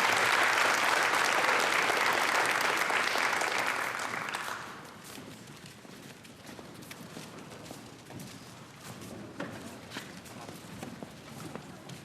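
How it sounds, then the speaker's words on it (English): An audience at a high school honors and awards ceremony gives scholarship recipients a loud round of applause for about four seconds, then the clapping thins into scattered claps and room noise. "Give them a round of applause again."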